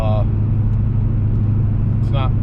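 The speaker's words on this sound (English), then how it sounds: "So this is me cruising at 60, by the way. It's pretty quiet." Interior of a Honda Civic Si of about 200 horsepower cruising at 60 mph, a steady low road and engine hum, fairly quiet, with a voice at the start and end.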